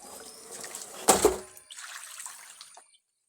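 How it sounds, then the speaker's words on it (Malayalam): Water sloshes and splashes as a tank is scrubbed and washed, with a sharp splash near the middle and softer trickling on either side, fairly faint and brief. "നമ്മളപ്പോൾ ഇതൊന്ന് തേച്ചടിച്ച് കഴുകണം"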